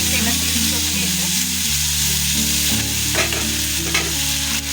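Chopped tomatoes fry and are stirred in a pan with leftover rice and egg, a steady close sizzle with scraping stirs, while a person talks over it.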